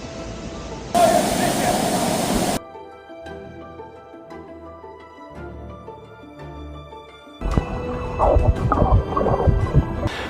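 A waterfall in Wales roars loud and close as a dense, rushing wash of noise in two stretches, separated by a quieter musical passage.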